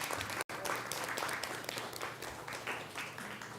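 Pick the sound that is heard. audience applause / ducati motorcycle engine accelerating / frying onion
audience applause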